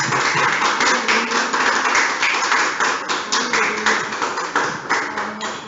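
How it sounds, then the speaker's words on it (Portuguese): A church congregation claps in steady unison, a rhythmic, fairly loud beat of many hands that keeps going for several seconds and eases slightly near the end. "Podemos aplaudir ao Senhor por isso?"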